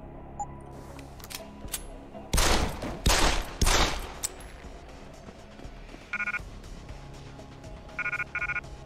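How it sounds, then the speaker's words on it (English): Gunfire in the video game Deus Ex: Human Revolution, a loud cluster of several rapid shots in quick succession, followed later by short electronic beeping game sounds over a steady background. "I could just use the gun."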